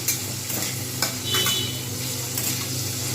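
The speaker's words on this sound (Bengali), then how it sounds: "জাস্ট আলতো হাতে একটু নেড়ে নেবো বেশ কিছুক্ষণ নেড়ে নিলাম" Ridge gourd frying in a pan, stirred gently with a utensil: a steady close sizzle with scraping and light clinking strokes repeating throughout, loud and alone with no voices.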